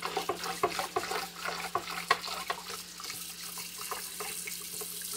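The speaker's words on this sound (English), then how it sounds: "I'm going to add a little bit more soap. And I'm just going to clean the inside of this pot." A pot with stuck-on baked potato scrubbed with soap and a rag under a running kitchen tap: steady water flow with quick irregular scrubbing and clattering strokes close by.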